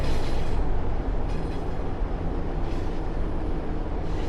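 A Class 150 Transport for Wales diesel unit runs on the Merthyr Tydfil line in the Train Sim World game, its steady loud rumble and wheel noise droning continuously without any talk.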